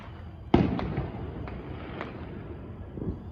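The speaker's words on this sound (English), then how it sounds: "I think fireworks are beautiful." A firework bursts with a sharp, loud boom, followed by fainter scattered pops and crackles trailing off over steady wind noise outdoors.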